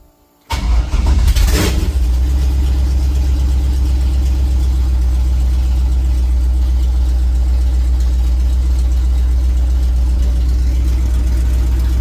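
The engine of a 1971 Ford F-100 pickup catches after a short crank and settles into a loud, steady, rumbling idle that runs on unbroken, heard up close from inside the cab.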